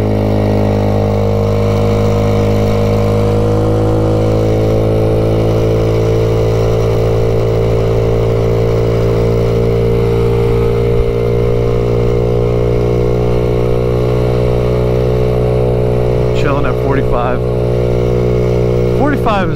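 A 2021 Maddog Generation V 150cc scooter drones steadily while riding along a main road, a loud, even engine hum with a constant pitch and wind rushing beneath the rider's talking.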